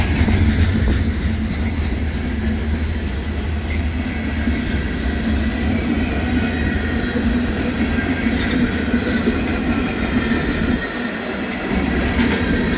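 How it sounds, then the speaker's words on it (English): Freight trains rolling one after another on a busy main line, a steady, loud rumble of wheels and cars passing close by for the whole stretch, with faint squeals and a brief dip near the end. "This is one busy line this morning here. Running one after another."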